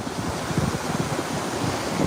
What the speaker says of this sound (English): Yeah, the waves are pretty big and full of dirty water, but sometimes the waves get big enough.